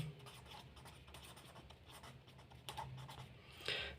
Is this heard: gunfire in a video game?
no